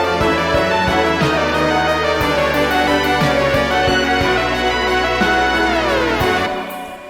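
Synth music in a waltz piece: a sawtooth-wave arpeggio runs beneath guitar and African bars carrying the lead, with piano and choir pads, dense and steady before fading at the end.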